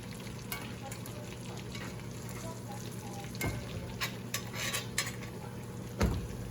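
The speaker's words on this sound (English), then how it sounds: "we just want to baste that flavor in these chops" Lamb loin chops sizzle and fry steadily in a pan while being basted with rosemary. Occasional spoon scrapes and metallic clinks of pan and utensil cut through the continuous hiss.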